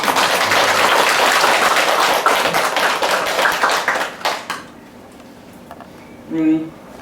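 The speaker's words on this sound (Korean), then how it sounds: "스님께 감사의 박수 보내드리겠습니다" A gathered congregation at a Buddhist founding dharma assembly claps for a senior monk. The clapping is loud and continuous for about four seconds, then tapers off to quiet, with a short voice near the end.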